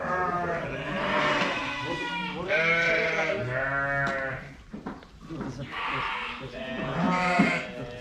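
Lambs bleat repeatedly close by in a sheep barn, overlapping cries in an enclosed space, with people talking at times among them.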